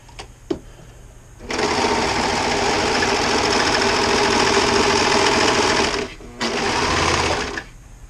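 A sewing machine runs steadily and loudly for several seconds as it stitches across fabric, pauses briefly, then hums again in a short final burst, with no talk over it.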